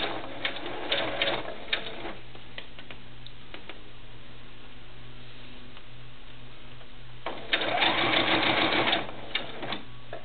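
A sewing machine stitches fabric for a doll's shoe at a quarter-inch seam, running in a steady rapid burst at the start, pausing through a quiet stretch, then whirring loudly again near the end.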